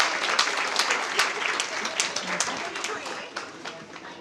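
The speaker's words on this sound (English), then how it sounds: "Just give yourselves a round of applause." Audience at an entrepreneurship week youth clinic applauds, dense clapping sustained for about four seconds at moderate level, with voices mixed in.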